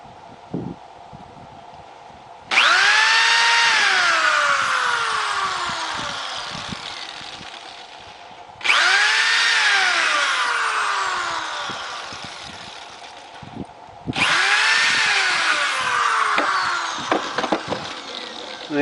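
Three long, loud whirring bursts from a power drill driving screws while making polymer slingshots, each lasting several seconds and rising in strain, separated by short pauses.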